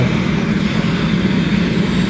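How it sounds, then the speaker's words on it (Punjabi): A helicopter flies between Govind Ghat and Govind Dham on the Hemkund Sahib route, a loud, steady engine and rotor drone with a low hum that holds constant throughout. "ਇਹ ਜਿਹੜੇ ਤੁਸੀਂ ਹੈਲੀਕਾਪਟਰ ਦੇਖ ਰਹੇ ਹੋ ਇਹ ਹੈਲੀਕਾਪਟਰ ਗਵਿੰਦ ਘਾਟ ਤੋਂ ਗਵਿੰਦ ਧਾਮ ਤੱਕ ਜਾਂਦੇ ਨੇ"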